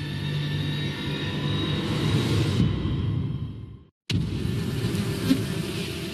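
A tropical forest wasp hovers close by with a steady, droning buzz that holds for several seconds, cuts out briefly into near silence, then resumes at the same level.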